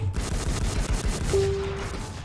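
Rapid machine gun fire in the online shooter Infestation, a dense, continuous burst of repeated shots held loud and close for the whole stretch, with no one speaking over it.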